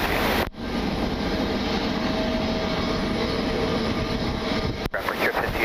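An airliner taking off from runway 24 left at Cleveland, a steady broad roar of engine and rushing noise that holds loud and even for several seconds, cut off briefly at the start and end.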